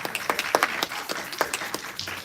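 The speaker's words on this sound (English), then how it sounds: "Let's give all of them a round of applause." Scattered clapping from a small synagogue congregation at a Hanukkah Shabbat family service, uneven and sparse rather than a full roaring ovation, continuing steadily throughout.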